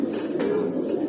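Pigeons, including a silver hen, give a short, low coo close by over a steady murmur of background noise.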